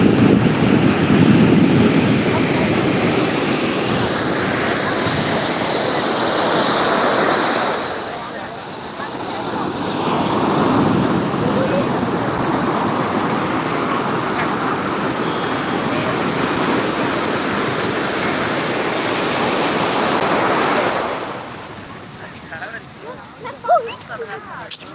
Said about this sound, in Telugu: కెరటాలు కూడా చాలా పెద్దవి ఉన్నాయి లోతుగా కూడా ఉంది